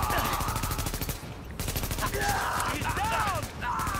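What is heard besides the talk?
gunfire in The Division video game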